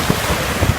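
Ocean waves and wind at the water's edge near Montego Bay, Jamaica: a short, steady wash of surf with buffeting wind noise on the microphone and no voices.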